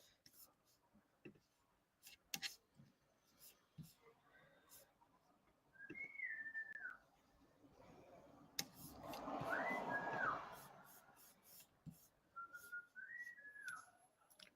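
A sister whistles three short melodic phrases with gliding pitch, fairly soft indoors, separated by pauses and a burst of breathy noise between the second and third phrases.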